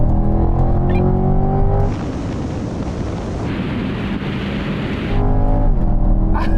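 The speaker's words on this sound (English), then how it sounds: "now we're going for a rolling race from 50 miles an hour" Ferrari and Corvette accelerating hard in a rolling race from 50 mph, a loud engine drone giving way to a roaring rush of wind and exhaust, then the engine tone returning with rising pitch.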